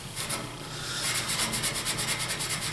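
Steel wool scrubs rust off a metal table saw part in quick back-and-forth strokes, a rhythmic close-up rasping that grows brisker after the first second.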